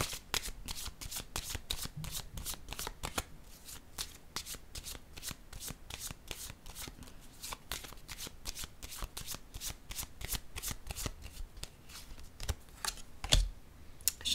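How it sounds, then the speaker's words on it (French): Playing cards being shuffled and laid down during a card reading, a long run of rapid crisp riffling flicks close by, with faint speech in the background. "Je vais déposer une carte ici."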